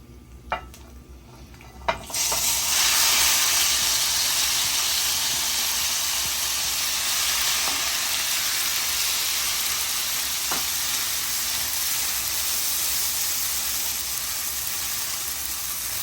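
Blended pumpkin leaf and shrimp paste sizzles loudly and steadily in hot oil seasoned with black cumin, starting with a couple of clinks before a continuous frying hiss fills the pan.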